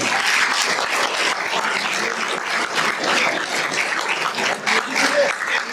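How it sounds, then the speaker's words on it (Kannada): Loud applause from the crowd at a trophy presentation for a cricket tournament, dense continuous clapping filling the whole stretch with slight swells. "ಜೋರಾದ ಚಪ್ಪಾಳೆ."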